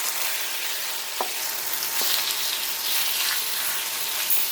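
Beef searing in a hot pan while Chinese food is cooked gives a steady, loud broadband sizzle throughout, with a couple of brief sharper crackles, and no talk.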